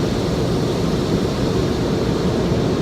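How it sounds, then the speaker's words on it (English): Steady, dense rushing water from a car wash jet spray, a constant broadband hiss that holds evenly from start to finish with no voices. "Here comes some sort of a jet spray."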